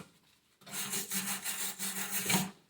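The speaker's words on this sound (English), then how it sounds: "always wire brush surfaces, always" A wire brush scrubs back and forth over a rusty part on a Citroën BX wagon in a steady series of rasping strokes. The sound is close and moderately loud after a brief quiet start, with no talking.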